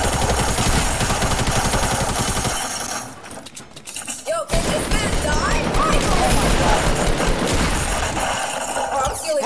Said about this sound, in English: People are shooting at us.